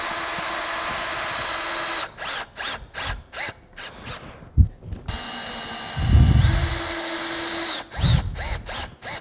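A power drill drives fasteners through a butt-and-pass log siding corner into the house, a loud continuous run followed by rapid stuttering pulses and thumps, then another steady whir and a final burst.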